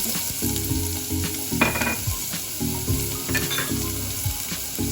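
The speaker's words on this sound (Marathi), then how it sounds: "हे सर्व लालसर होईपर्यंत भाजून घेऊया।" Finely chopped onion with tomato, curry leaves and coriander frying in a pan for South Indian sambar gives a steady close sizzle, broken by repeated scraping stirs and soft clinks of the spoon against the pan.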